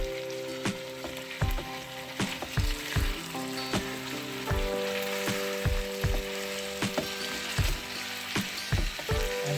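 Ginger pork noodles stir-fry in a pan with a loud continuous sizzle, punctuated by regular scraping thumps of a utensil as the noodles are gently tossed.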